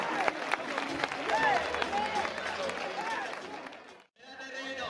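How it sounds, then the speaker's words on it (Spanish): Crowd at a traditional bull-running festival with recortadores in Piornal applauding and chattering in a busy mix, a brief dropout near the end before the crowd noise resumes. "¡Ese fuerte aplauso!"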